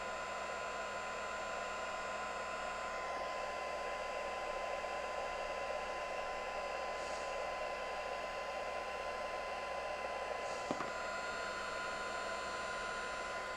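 A heat tool blows hot air steadily onto black embossing powder, a loud continuous whirring hiss with a constant motor hum that runs unbroken for the whole stretch, no one talking.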